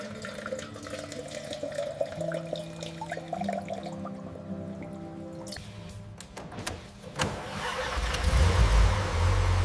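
A red 1974 Lamborghini Countach LP400 cranks over and fires up after a full rebuild, the engine catching and settling into a loud, deep idle that swells in the closing seconds, following a stretch of workshop clatter.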